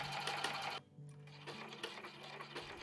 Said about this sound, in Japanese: まずはカバン入れ口に最初にステッチします。